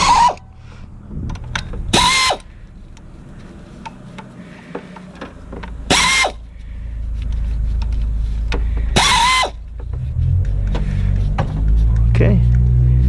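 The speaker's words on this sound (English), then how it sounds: "I'm going to be using impact, so it'll be a little bit easier for me." An impact wrench loosens the 10mm bolts on a 2004 Chevrolet Impala 3.4L during a water pump replacement, giving several short, loud bursts separated by pauses over a low, steady background rumble.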